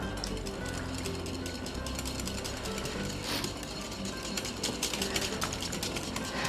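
A pepper mill grinds pepper in a steady, rapid ratcheting crunch, close and continuous for several seconds with no talking over it.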